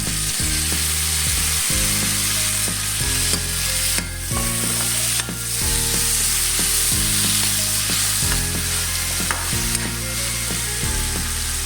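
Tomatoes and ginger fry hard in a pan for a fish-and-coconut-milk dish, giving a loud, continuous sizzle with rhythmic scraping and stirring strokes throughout.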